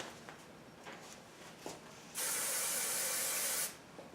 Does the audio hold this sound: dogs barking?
no